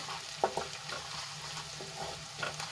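Turmeric stirred into hot oil already holding ginger, garlic and chillies for a Kathiyawadi drumstick kadhi, giving a soft steady sizzle with a few brief stirring clinks, quiet and without talk.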